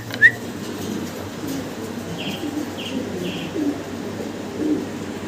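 Red checker and blue checker pigeons coo softly in a loft, low murmuring calls repeating in the background after a brief sharp chirp near the start.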